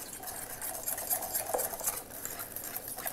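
A dressing of olive oil being whisked in a bowl, a quick, steady metallic scraping and clicking rhythm against the sides, close and continuous for a few seconds with no one speaking.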